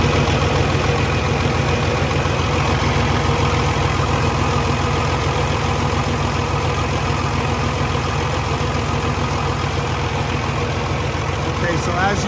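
A hot Paccar MX13 diesel engine in a 2014 Kenworth T680 truck idles steadily nearby, a loud, even rumble with a rhythmic knocking chatter throughout.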